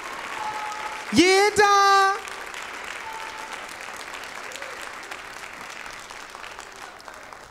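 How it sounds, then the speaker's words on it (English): An audience at a Black History oratorical competition claps steadily for the participants, a diffuse wash of applause behind a voice calling out briefly near the start. "We want to give another round of applause for all our participants."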